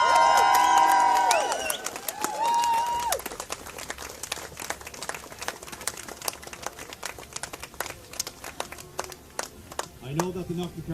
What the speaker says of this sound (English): And a big cheer for Knocknacarra, come on.